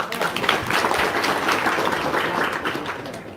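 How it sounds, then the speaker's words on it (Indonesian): A seated crowd claps together at a religious gathering, a dense, steady patter of hands that stays loud and even for a few seconds, with faint voices mixed underneath. "Tepuk tangan dulu dong."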